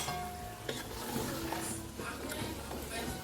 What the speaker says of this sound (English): it has fried for some time, and we will be turning it right now